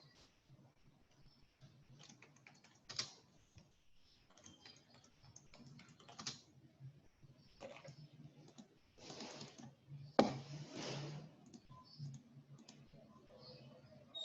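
Quiet typing on a computer keyboard while writing in MS Word: sporadic soft key clicks in short bursts, with one sharper click near the end and no talking.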